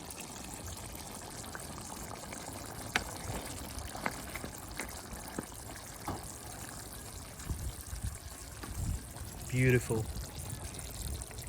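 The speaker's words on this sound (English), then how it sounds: "Look at it bubbling away" Sri Lankan crab curry with coconut simmering in a pot, a soft continuous bubbling and gentle liquid noise with occasional small pops and clinks, heard up close under a person speaking briefly.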